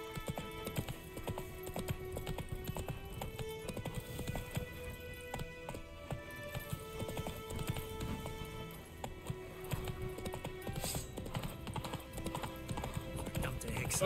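Horse hooves clip-clop steadily while galloping in The Witcher 3 Next Gen on PS5, a continuous rhythmic beat beneath game music with occasional whinnies and speech.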